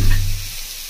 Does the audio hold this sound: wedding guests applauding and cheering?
no